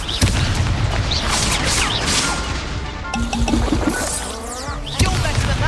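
Explosive spell cast in the Hogwarts Legacy video game, a loud crashing blast amid dense, busy game combat noise with repeated impacts and booms, a sharp burst near the start and another near five seconds.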